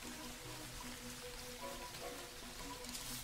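Steady, soft hiss of falling rain in Terraria, constant throughout, with faint tonal music humming quietly beneath it.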